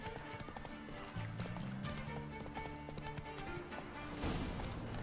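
Horse hooves gallop in The Witcher 3 video game, a steady rapid clip-clop running throughout over a bed of game music, with a louder swell near the end.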